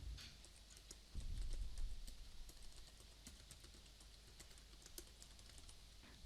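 Very faint, close computer-keyboard typing, a quick irregular run of soft clicks over low background hum, with a short muffled thump near the start and no talking.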